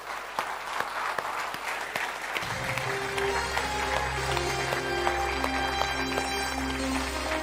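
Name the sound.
audience applause with music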